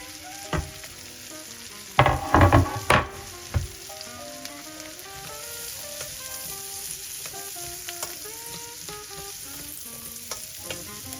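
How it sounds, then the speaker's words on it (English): Onions sauté in a pan over medium-low heat with a continuous gentle sizzle, opening with a burst of louder clatter and stirring before settling into a soft, even fry. "we just bring in the onions and saute them over a medium to low heat until they're nice and golden"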